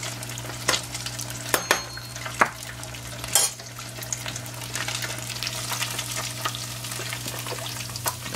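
Beer-battered catfish fries steadily in a pan, a continuous close sizzle broken by a few sharp clinks and scrapes of a utensil against the cookware, with no voices.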